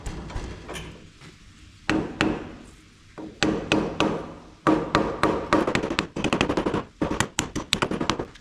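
A greased part is hammered into a classic VW Beetle IRS suspension with a run of sharp metallic blows, first scattered, then fast bursts of close, loud strikes separated by short pauses.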